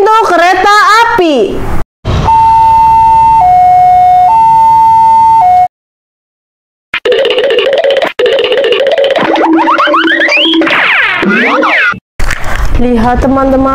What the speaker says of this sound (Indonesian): Palang pintu kereta api.